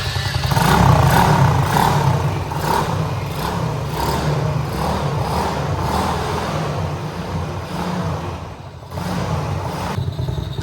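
A donor motorbike engine idles steadily at close range, a continuous even rumble with light mechanical clatter and no talk over it.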